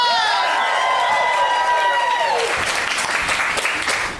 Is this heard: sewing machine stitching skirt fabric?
no